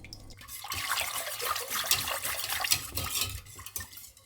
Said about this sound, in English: I'll add the alcohols into the sugar mixture and give it a good stir